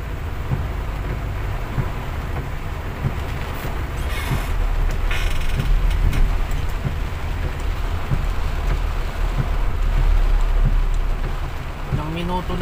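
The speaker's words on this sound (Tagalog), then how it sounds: "Minuto na yung ulan, wala pa rin tigil." Steady, unbroken rain pours down in Manila during Typhoon Enteng, a dense hiss of drops on surfaces with low rumbling underneath and no let-up.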